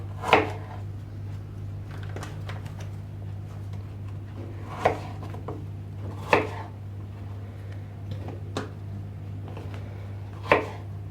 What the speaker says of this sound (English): I will cut strawberries into half.